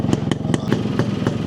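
A 1992 motorcycle with a sidecar, fitted with a 58mm RXT piston and converted to CDI ignition, idles steadily nearby with an even, rhythmic putter and light mechanical clatter, running alone.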